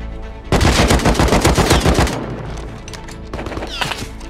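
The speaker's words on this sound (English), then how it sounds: "That guy should not be shooting at us." An AK rifle fires in the survival game Rust: a loud, close automatic burst of rapid shots for about a second and a half, followed by a few fainter, scattered shots further off.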